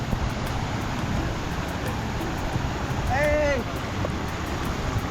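Kataldar waterfall near Rajmachi in the monsoon gives a steady, loud broadband rush of falling water, continuous throughout, with a brief voice breaking in near the middle.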